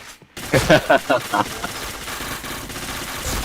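Rapid bursts of shooter video game gunfire crackle in a quick cluster of five or six shots, then trail off into softer background game noise.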